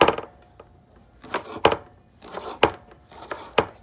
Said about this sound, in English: I will start slice this onion